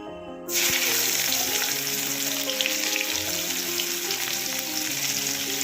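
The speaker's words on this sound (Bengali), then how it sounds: "পাঁচফোড়নটা ভাজা ভাজা হয়ে গেলে তার মধ্যে আমি দিয়ে দেবো পেঁয়াজ কুচি।" Chopped onion dropped into hot oil with panch phoron, five-spice seeds, for a Bengali okra and potato curry, bursting into a loud, steady sizzle that continues right after the onion goes in.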